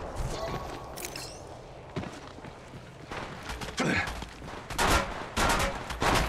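Gunfire in the mobile battle royale Apex Legends Mobile: scattered sharp shots and short automatic bursts, some near and loud, others farther off, mixed with footsteps and movement noise.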